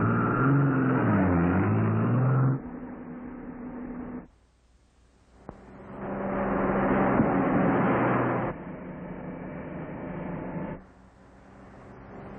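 A fast vehicle roars past in an old film, its engine surging and revving loudly with a wavering pitch, dropping away, then swelling again before fading into a lower hum.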